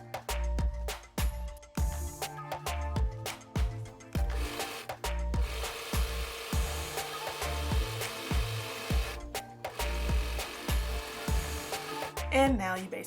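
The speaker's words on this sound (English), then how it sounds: "You're just gonna sew that all close." A sewing machine stitching the long side, underarm and sleeve seams of a turtleneck shirt, running in fast mechanical bursts that start and stop repeatedly, loud and close.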